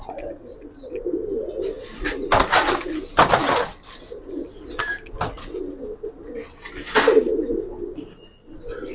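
Giribaz pigeons in a pigeon keeper's loft give soft, continuous low cooing, punctuated by a few sharp chirps and brief bursts of flapping or clattering close by.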